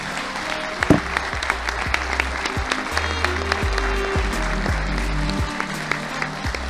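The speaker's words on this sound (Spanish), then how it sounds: "un aplauso" Audience applause at the closing of a business conference, a sustained crowd of clapping hands at moderate loudness over a low, humming room sound with intermittent deeper tones.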